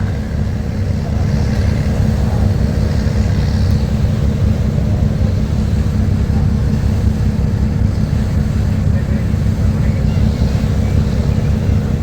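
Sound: engine of the MV Manami passenger launch

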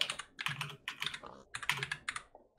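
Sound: typing on a computer keyboard

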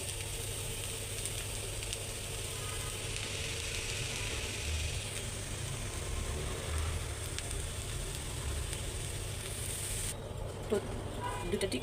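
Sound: tikia frying in a pan

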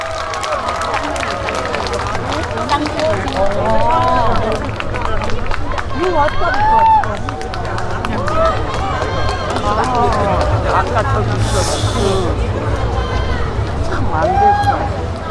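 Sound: audience applause for singer at Sorae port festival

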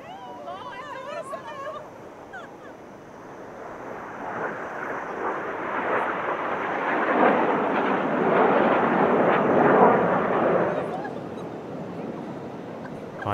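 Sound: Frecce Tricolori aerobatic team jets flying at Dubai Airshow

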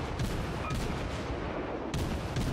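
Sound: German cruiser guns firing in video game World of Warships

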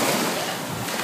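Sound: large ocean waves breaking at Malibu beach

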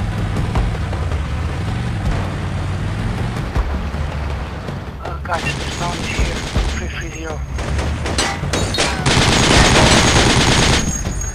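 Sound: gunfire from the video game Project Reality

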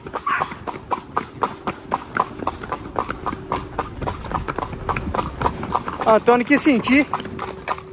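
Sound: horse hooves clip-clopping on a ride

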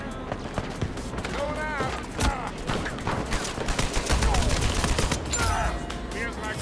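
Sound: gunfire in the video game Uncharted 4 multiplayer

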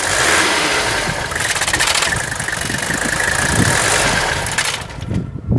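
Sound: 1979 Mercedes 300SD turbo diesel engine idling and being shut off

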